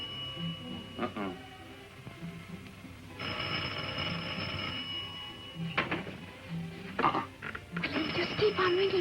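A telephone rings in two longer bursts with quieter gaps between, while voices talk faintly in the room.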